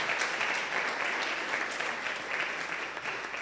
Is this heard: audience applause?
yes